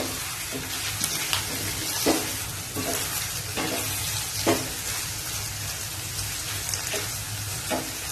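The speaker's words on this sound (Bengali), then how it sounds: "গাজরটাকেও 1 সেকেন্ড নাড়িয়ে নেব" Chopped carrots stir-fried for chowmein, a steady broadband sizzle with scraping stirs clacking at irregular intervals throughout, close and fairly loud, with no talking.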